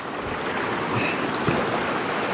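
River rapids rushing in a steady broadband roar, close and continuous, with occasional splashes and some wind buffeting, no talking.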